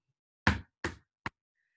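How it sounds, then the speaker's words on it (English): Three heavy bangs from a door knocker on a door, close and loud, the first two spaced evenly and the last quicker and shorter, with silence around them. "grabbed that knocker and banged on that door again."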